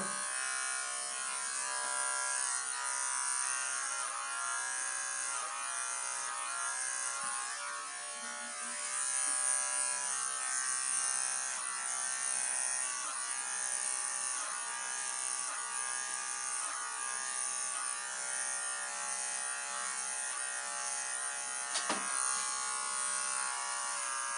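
Electric hair clippers buzz continuously and close up during a self-administered haircut, a steady whine with small shifts as the blades move through hair.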